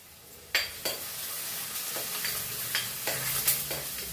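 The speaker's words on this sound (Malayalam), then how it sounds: "ഇനി നമുക്ക് ഒന്ന് ഇളക്കി കൊടുക്കാം." Fish curry is stirred in a pot after water goes in, with a low simmering sizzle under a series of distinct scraping and knocking strokes from a spoon against the pan.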